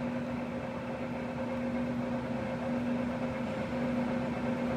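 A TOS FA5U heavy-duty universal milling machine with its spindle turning at 280 rpm gives a steady mechanical hum with strong even tones, continuous and fairly close, with no voices.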